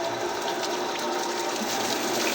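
Steady rushing and hissing of water drawn through a pump, continuous and fairly loud with no pauses.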